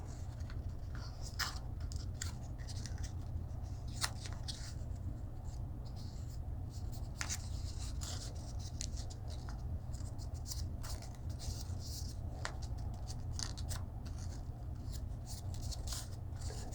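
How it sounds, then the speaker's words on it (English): Origami paper being folded and creased into a butterfly, with soft crinkles and sharp scraping creases scattered irregularly throughout over a steady low hum. "we're going to kind of fold this in half, and then all the way to these points"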